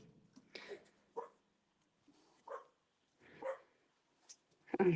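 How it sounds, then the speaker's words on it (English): A dog indoors barks and whimpers at something outside in scattered, fairly faint bursts, some yips and whines, spaced out with quiet gaps between. "she's barking at it."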